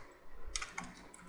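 Computer keyboard keys clatter in a quick burst of several close, crisp clicks while a project name is entered for an ASP.NET web application, with quiet room tone before and after.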